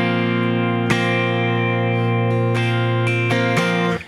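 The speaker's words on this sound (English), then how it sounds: "If you don't use chorus, it just sounds a little more plain. It sounds like this." Clean electric guitar with no chorus effect rings through a held chord voicing, a few strums restruck with sharp attacks, plain and upfront with no voices over it.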